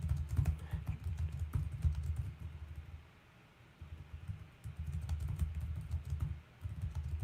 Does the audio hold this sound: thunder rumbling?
no